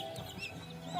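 Brief, soft clucking of chickens close by on a farm, with a faint chick cheep over a steady low background hum.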